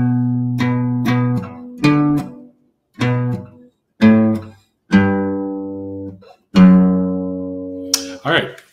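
Slow single-note guitar riff from tablature, played as a beginner exercise: about nine plucked notes with gaps between them, each ringing clearly and fading, with a longer sustained note near the end and a brief scrape at the close.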